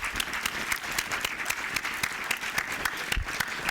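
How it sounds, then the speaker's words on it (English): Steady applause from a lecture audience at an event for young people in Oman, greeting a professor on his birthday; dense, even clapping with no voices. "So we will start with this kind of applause"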